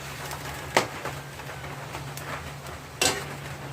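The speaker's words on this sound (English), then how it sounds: "So just stir fry." Squid and vegetables stir frying in a pan, a steady sizzle with a couple of sharp utensil clacks against the pan.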